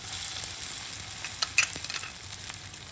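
Sago pearls sauteing in ghee in a pan give a steady close sizzle, broken by a few light scraping stirs, with no voices.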